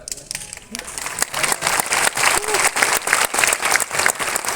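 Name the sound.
audience applause in a hall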